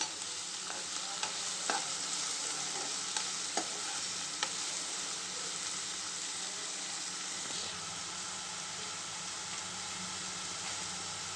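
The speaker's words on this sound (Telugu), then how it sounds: "ఇప్పుడు ఉల్లిపాయ పచ్చిమిర్చి ముక్కలు వేసుకుందాం" Chopped onion and green chilli pieces fry in oil in a kadai for a tomato curry, giving a continuous close sizzle with scattered scraping clicks from stirring.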